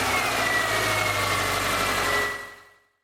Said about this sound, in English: next, you're going to start the car